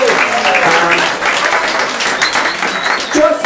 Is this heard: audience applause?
yes